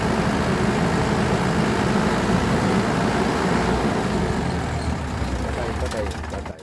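A Powerman generator engine with a faulty speed controller runs steadily with a low, rumbling drone, close and loud, while someone talks over it and the sound eases slightly toward the end.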